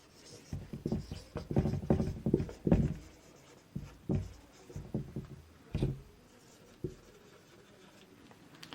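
Chemistry notes are written out by hand in short, scratchy strokes that come in quiet, irregular bursts with pauses between words, with no talking.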